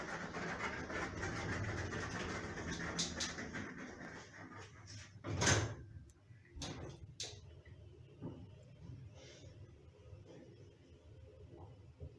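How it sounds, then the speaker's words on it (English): A 2001 Oakland passenger lift in a Belfast shop descends with a low, steady mechanical hum, broken by several clunks and a louder rumbling thud midway, with no talking. "Lift going down."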